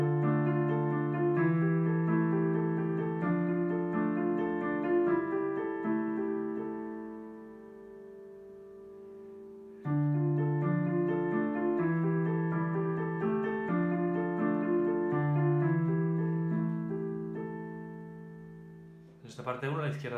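Piano playing the opening part of a piece, a repeating pattern of soft, steady chords and bass notes that restarts midway, then ends with a brief noisy burst.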